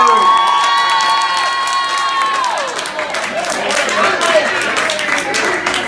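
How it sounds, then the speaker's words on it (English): Comedy club crowd at the Ugly Mug cheering and clapping, a sustained shouted whoop at first, then mixed applause, cheers and voices throughout. "Can we give a round of applause for this table?"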